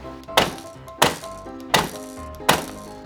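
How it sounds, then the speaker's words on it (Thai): A nail gun drives nails into a pine wood frame for a DIY paper organizer cupboard, four sharp, close thunks at roughly even intervals. "ตรงนี้เราแค่จับให้มันแนบๆแล้วเราก็ยิงตะปูเลยนะครับ2รู"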